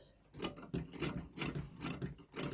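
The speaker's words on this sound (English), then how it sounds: "you get to hear and see how it sews" A quiet treadle-driven sewing machine stitching, giving a steady rhythmic series of soft clicking, whirring pulses at about two per second, close and alone.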